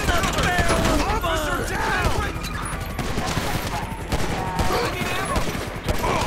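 Dense bursts of automatic gunfire and shooting effects from the video game GTA 5 play continuously and loudly, layered with whooshes and mechanical game sounds.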